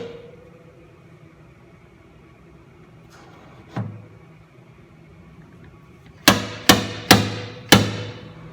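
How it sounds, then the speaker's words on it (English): A slide hammer pulls a dent out of car body metal: one dull knock, then four sharp metallic clanks in quick succession, each ringing briefly in a quiet workshop. "the slide hammer and sliding it back and pulling it out"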